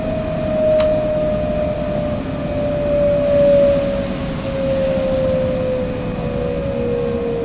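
A train pulling into Ormo Station in the SimRail rail simulator gives a steady low rumble of rolling wheels with a thin, slowly falling whine running under it, close and continuous throughout.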